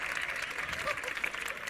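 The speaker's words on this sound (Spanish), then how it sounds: "un aplauso más para Antonio Escotado" Applause from the audience at a live interview event, a faint wash of clapping with a voice heard over it.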